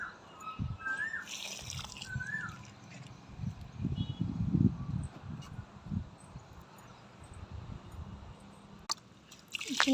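Water pours and splashes onto garden plants such as hibiscus in a home garden, uneven trickling and dripping bursts close by, with faint bird chirps in the background.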